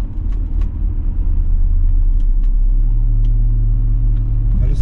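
A BMW E39 525i drives along at moderate speed, its engine and road rumble loud and continuous, with a low tone shifting partway through as the car moves through the gears.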